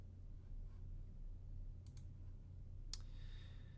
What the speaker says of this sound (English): And I'm just going to click Add App.